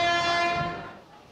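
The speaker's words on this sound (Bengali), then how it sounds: "চলো, ট্রেন এসে গেছে আমার" A passenger train sounds its horn in one long, loud, steady blast as it pulls into the station, then the tone fades away over about a second.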